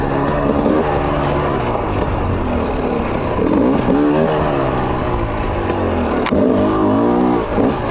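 A TM EN 300 enduro dirt bike engine roars continuously while being ridden, revving up and down through constant direction changes, loud and close throughout with no pause.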